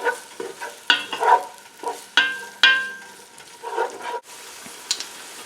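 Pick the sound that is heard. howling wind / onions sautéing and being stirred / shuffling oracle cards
onions sautéing and being stirred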